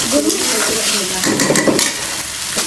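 Beef liver with cumin paste and spices is stir-fried in a pan, a close, loud sizzle with scraping stirring strokes and light clinks of a utensil against the pan.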